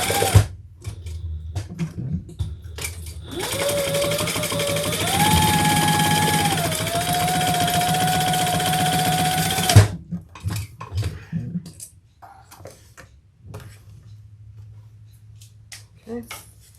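A sewing machine stitches a bag seam in one sustained whirring run of several seconds, with a rising motor tone in the middle, followed by quieter handling clicks and a brief voice.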